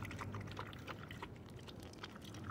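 Water pours for a German shepherd at a dog park in the woods, a faint steady splashing trickle close by under a hissy outdoor background.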